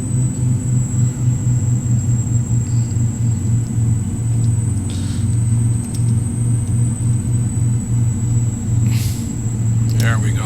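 A Beechcraft King Air 350i turboprop in the FSX flight simulator holds a steady, loud low engine drone and rumble as the throttle is adjusted, with a faint high whine above it.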